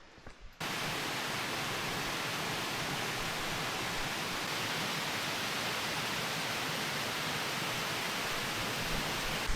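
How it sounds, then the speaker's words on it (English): Steady, dense roar of a Peak District waterfall, loud and continuous, beginning abruptly after a brief quiet moment and holding constant throughout. "That's it, that's the waterfall."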